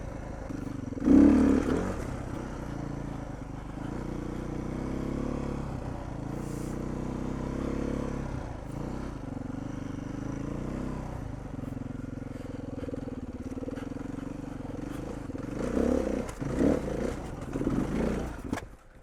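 Beta 390 trail motorcycle idling and lugging with its clutch not fully disengaging, a steady low engine drone with revving swells and clatter toward the end, recorded close on a rally ride in Moab, Utah.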